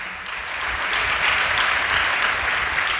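A church congregation at a Sunday worship service claps loudly and steadily, a dense sustained wash of applause lasting the full length with no speech over it.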